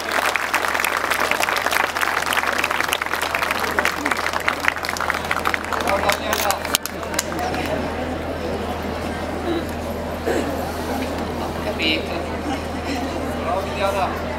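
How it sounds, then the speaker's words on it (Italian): An audience at an international folklore festival in Sorrento claps to welcome two guests from Blue Diamond: brisk, dense clapping for about seven seconds, then fading into crowd chatter with talk over a low steady hum. "Accogliamole con un grande applauso Daniela e Milania."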